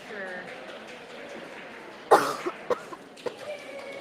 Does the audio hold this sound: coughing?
yes